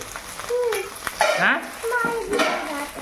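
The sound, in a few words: stirring food in a cooking pot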